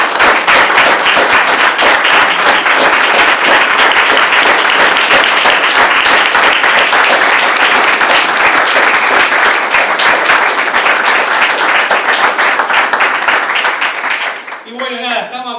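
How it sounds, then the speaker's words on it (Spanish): A crowd at a political talk on energy policy in Argentina gives strong applause for the comrades, with loud, dense, sustained clapping that fills the room before fading out near the end as voices come in. "vamos a hacer un fuerte aplauso para los compañeros."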